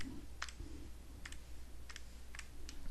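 Keys click on a graphing calculator keypad, about half a dozen soft, separate presses at an uneven pace against a quiet background hum, with no voices.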